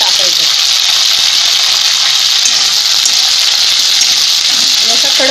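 Cleaned curry leaves fry in hot oil in a wok, giving a loud, steady, bright sizzle throughout, with faint voice fragments underneath.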